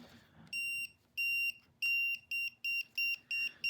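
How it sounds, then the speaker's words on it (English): A Wiha voltage tester held near a cable gives bright, high-pitched electronic beeps that start slow and come faster and more tightly spaced, each beep loud against a quiet room. "The beep picks up faster."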